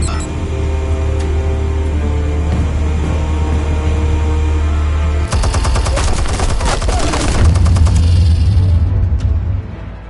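Explosions and rapid gunfire in a Batman video game on PS4, a dense crackling burst of shots erupting midway over a steady low rumble and droning game score, loud and close.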